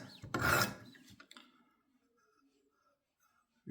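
A butter knife drawn across a sharpening stone on a Wicked Edge WE60 gives one short, raspy stroke, followed by quieter scrapes and near silence.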